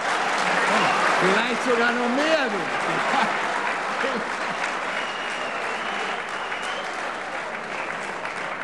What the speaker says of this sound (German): Harald, auf den Applaus musst du dir nichts einbilden